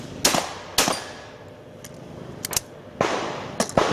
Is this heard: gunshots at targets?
yes